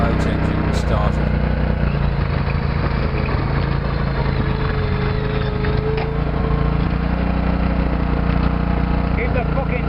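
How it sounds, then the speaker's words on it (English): Lister Petter AC2W generator engine runs steadily throughout, a loud, constant low mechanical drone with people talking over it. "That's the generator, not the boat engine starter."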